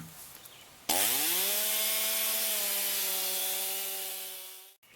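Chainsaw on a mini mill ripping boards lengthwise from a small log, a loud close motor snarl that bites in abruptly and holds steady under load for several seconds before cutting off.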